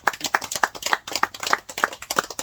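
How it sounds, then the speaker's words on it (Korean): Audience at a farming education lecture on Shine Muscat grapes claps together in a steady, even rhythm of sharp hand claps, close and fairly loud, with no talking over it. "미생물 우리 박수 한번 치십시다."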